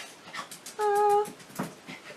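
A puppy gives a single sustained whining yelp indoors, close and fairly loud, set among faint snuffling and soft background noise.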